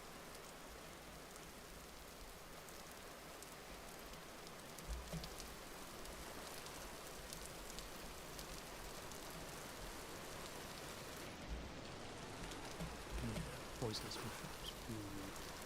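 Rain falling in the survival game Vintage Story, a soft steady patter and hiss running throughout at low level, with a few brief spoken words and small clicks over it.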